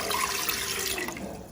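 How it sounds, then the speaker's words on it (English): Water poured into a stock pot for chicken and wild rice soup, a steady splashing stream heard close up with no talk. "The first thing we're gonna do is add 2 cups of water"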